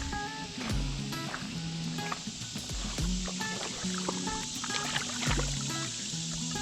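An antique bottle being rinsed in a river, with splashing, trickling and dripping water up close over a steady outdoor background, in irregular bursts and no talk.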